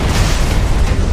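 Enemy ship cannon fire in Assassin's Creed Black Flag: a loud, sustained booming roar of explosive blasts that fills the whole moment with dense, rumbling noise and no speech.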